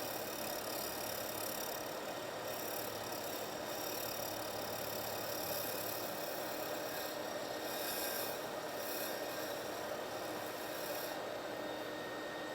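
A custom pen blank is shaped down on a turning setup, giving a continuous loud rasping, grinding whir with a steady motor drone underneath and no speech.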